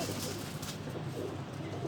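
Teddy breed pigeons, a group of females, coo with soft low throaty calls that repeat steadily through the whole clip at close range, with no talk over them.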